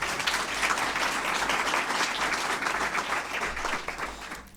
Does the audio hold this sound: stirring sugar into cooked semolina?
no